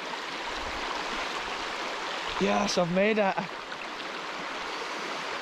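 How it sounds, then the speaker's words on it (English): Fast, ferocious river water rushing in a steady broadband roar at a deep stretch in wild Scottish land, loud and close, with a man's brief spoken words midway. "this is the most ferocious part of the river I'm in right now"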